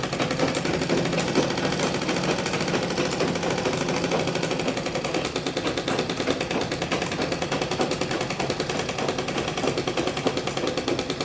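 A sewing machine stitches around the sides of a fabric bag, giving a fast, continuous, even rattle close up that runs with no pauses.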